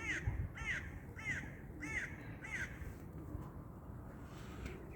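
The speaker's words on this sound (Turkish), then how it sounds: "Orada kavak ağacının üstünde bir kuzgun bağırıyor." A raven perched atop a poplar tree gives a run of about five harsh, evenly spaced croaking caws, then falls quiet, outdoors against a low background rumble.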